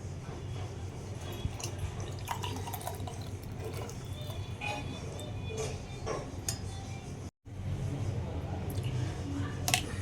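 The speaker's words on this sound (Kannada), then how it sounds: "ಇದನ್ನು 1 ಗ್ಲಾಸಲ್ಲಿ ಹಾಕೊಂಡ್ಬಿಟ್ಟು ಕುಡಿಬೇಕು" Herbal kashaya decoction is poured into a glass, with liquid drips and splashes, light glass clinks and handling noise up close, briefly cut by a moment of silence midway.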